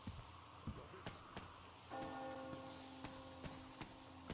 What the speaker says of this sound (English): Hear that bell?